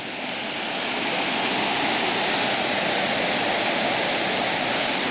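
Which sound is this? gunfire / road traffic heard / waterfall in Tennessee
waterfall in Tennessee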